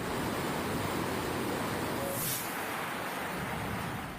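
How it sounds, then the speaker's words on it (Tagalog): Muddy floodwater carrying logs rushes from an overflowing river in Oriental Mindoro during nonstop rain, a loud, steady broadband roar that fills the whole clip with no speech. "May halong putik at troso ang rumaragasang tubig."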